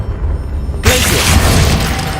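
Glacius ice spell striking in Hogwarts Legacy, a sudden loud crackling burst with a shattering icy hiss that lingers about a second and a half, over a steady game background.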